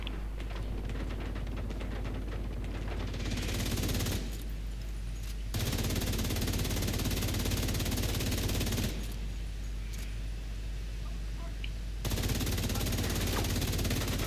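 Sustained automatic gunfire in The Division 2 during a solo Master Climax mission at Tidal Basin, loud and continuous with two brief lulls as enemy waves of machine gunners and grenadiers keep attacking.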